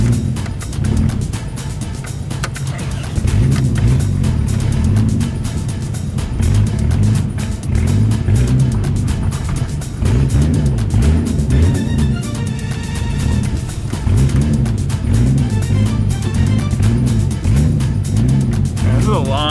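Boosted Toyota Cressida MX73 with a 5M engine held at full throttle, its low engine note climbing in repeated rising sweeps that carry loudly and steadily, with people talking over it throughout.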